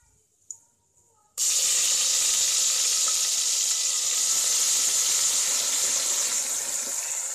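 Ginger garlic paste hits hot oil in a pan for mutton paya, bursting into a loud, steady, hissing sizzle that continues unbroken after a short quiet start.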